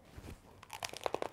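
Several sharp, close crunches from biting into a crisp crostini topped with herbed goat cheese, quick bites clustered in about a second.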